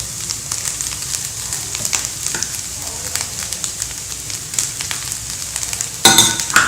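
Rice tipped into a pan of sautéed carrots and stirred, a steady bright sizzle with scattered scraping taps, ending in a louder clatter of stirring near the close.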